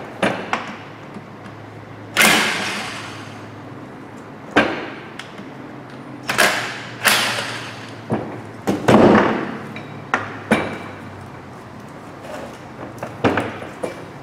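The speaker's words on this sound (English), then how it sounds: "Dead blow hammer, not a metal hammer, it doesn't damage a disc." Heavy, dull dead blow hammer blows strike a brake disc on a Renault Clio 172 Sport, landing one after another at an uneven pace, each a loud thud with a short ring, with quiet pauses between.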